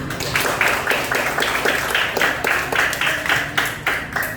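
Classroom applause: a group of students clapping in a steady, rhythmic unison pattern, close and lively, with a faint voice underneath.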